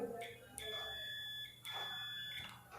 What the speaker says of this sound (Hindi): अभी मैंने मल्टीमीटर को रखा हूँ बजर मोड में